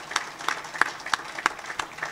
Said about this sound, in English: Yes, I think that needs very much a round of applause.